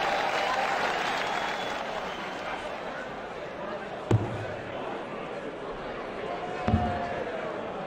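Crowd at the 2008 PDC World Darts Championship applauding in a continuous hall-wide ripple, with two sharp thuds of darts hitting the board cutting through, and a commentator's voice faintly audible underneath.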